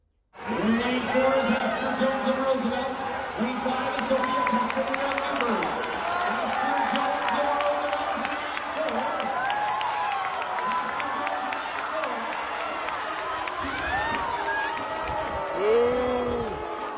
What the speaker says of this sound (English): many of the watching spectators loudly booed